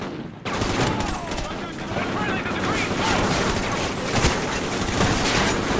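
Sustained gunfire in the video game Call of Duty Ghosts, a dense, loud, continuous barrage of shots filling the whole stretch.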